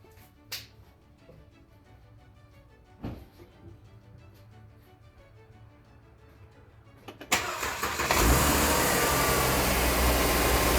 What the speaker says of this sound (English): Now we're going to start the engine to see if that noise is gone.